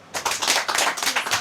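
Audience members at a Yanga Pamoja fan-branch gathering in Mbezi break into a short, dense burst of hand clapping that starts abruptly and carries on loud and close for just over a second.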